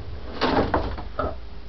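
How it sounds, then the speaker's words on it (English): A bathroom door swings open or shut nearby, with soft scraping and a muted thud over low background hum. "my bathroom door does not open or shut anymore"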